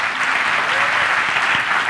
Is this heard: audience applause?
yes